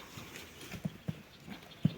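A few hollow hoof clops from a stallion, spaced irregularly and fairly soft, over a quiet low background.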